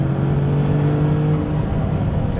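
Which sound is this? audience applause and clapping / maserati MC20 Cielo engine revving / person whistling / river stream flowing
maserati MC20 Cielo engine revving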